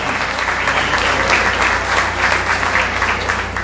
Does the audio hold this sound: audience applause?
yes